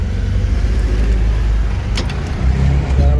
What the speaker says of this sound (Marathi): रिक्षा आपला न्यायला आलाय भाव आपल्याला.